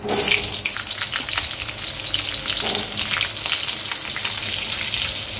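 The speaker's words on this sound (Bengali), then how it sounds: "এবার আমি ওই তেলেই মশলাগুলো ভেজে নিচ্ছি।" Four chopped onions sizzle steadily in hot oil in a pan for a chicken masala curry, a loud, continuous frying hiss with occasional stirring scrapes and no talking.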